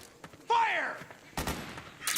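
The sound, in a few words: suppressing gunfire from the video game Metal Gear Solid 4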